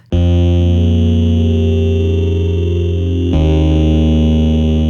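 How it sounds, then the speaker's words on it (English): A loud, sustained buzzy tone from a harp's bass pickup run through a bitcrusher, gritty and heavily processed with digital distortion, holds steady and then shifts to a new pitch partway through. "And my harp's bass pickup through bitmap."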